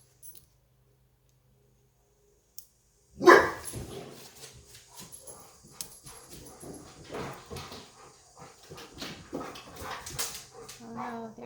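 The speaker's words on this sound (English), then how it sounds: "there goes the dogs" Dogs barking indoors in repeated sharp bursts from about three seconds on, fairly close and continuing with some whimpering through the rest, while card-making with stamps goes on.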